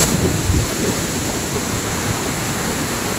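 Maampon Falls in Lucban, Quezon roars with dense, steady rushing water, loud and continuous with no voices.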